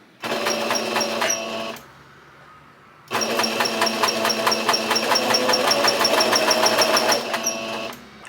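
Sewing machine stitching a skirt, a loud close mechanical whir with rapid needle ticking in two runs separated by a short pause, no talk.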